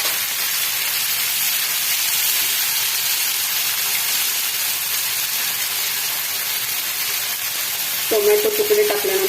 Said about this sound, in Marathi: तेल टाकूया कांदा टाकूया टोमॅटोचे तुकडे टाकून घ्यायचे आहे